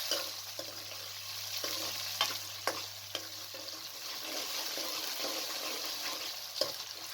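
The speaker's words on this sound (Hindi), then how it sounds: "प्याज को हल्का सा ब्राउन करना है। जैसे ही इसका कलर चेंज हो जाए तो आपने इसके अंदर टमाटर को शामिल कर देना है।" Onions, tomatoes and potatoes fry for a curry in a pan, giving a steady, close sizzle with occasional clicks and scrapes of stirring.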